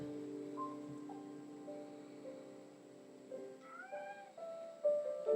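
Cat meowing faintly in a quiet setting, several soft rising and falling cries near the end over a low steady background hum.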